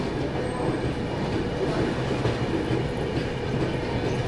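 Chennai Duronto Express pulling out of Gwalior railway station, a steady close rumble of the rolling train with faint clickety-clack from the wheels, continuous and fairly loud throughout.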